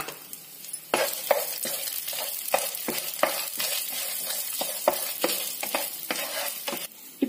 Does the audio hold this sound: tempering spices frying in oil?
yes